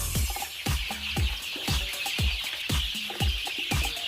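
Young, fast-growing egg-laying chicks about three weeks old cluck in a regular series of short, low, close calls, roughly two per second, over a faint hissing background.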